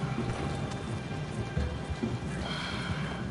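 Horse hooves clip-clop steadily at a brisk gait in Red Dead Redemption 2 online, a continuous rhythmic patter under a dense, noisy game soundscape.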